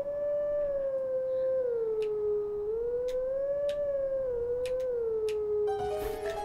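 A wolf howls a tune in Twilight Princess, one long unbroken wavering howl that glides up and down in pitch, with faint chime-like ticks scattered over it and a brief musical flourish at the end.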